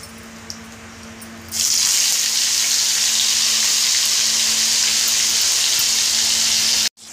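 Ground masala paste for chole hits hot oil in a pan and bursts into a loud, continuous close sizzle that holds steady for several seconds before cutting off abruptly; a quieter lower hiss comes before it.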